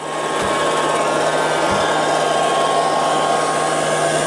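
A Liectroux B3000 robot vacuum cleaner runs nearby with a steady, loud, even motor whine and airflow hiss, holding constant throughout with two brief low thumps early on.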